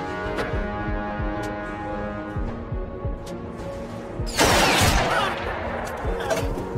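A sniper opens fire during a film battle at a bandit hideout, one loud crackling burst of gunfire cutting through tense background music midway, then fading back under the score.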